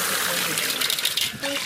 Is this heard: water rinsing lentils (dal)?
yes